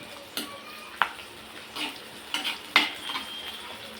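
Boiled eggs frying in oil in a pan for egg masala curry give a soft steady sizzle, broken by sharp clinks and scrapes of a spoon against the pan, close up and with no talk.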